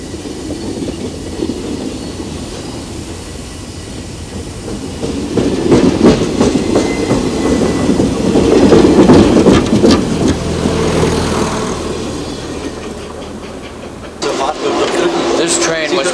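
A steam locomotive assembled for a centennial runs loud and close from inside the cab, with a steady rumbling chuff and rhythmic wheel clatter that surges midway, then a sharper hissing burst near the end.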